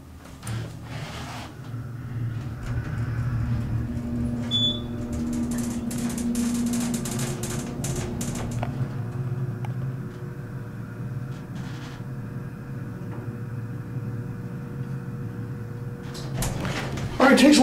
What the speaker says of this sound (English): Let us listen to this motor.